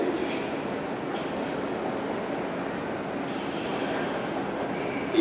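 A regional train pulls into a platform at an Italian station, a steady broadband rumble of wheels and carriages rolling in, close and continuous, with no voices over it.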